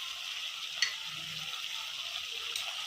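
Chole masala curry with chilli, salt, coriander powder and garam masala being stirred in a hot pan, a soft steady sizzle with a light scrape of the spoon, close and continuous.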